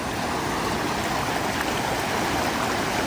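Flash flood water rushes steadily past roadside culverts in the woods, a loud, unbroken roar of churning runoff with no pauses or voices.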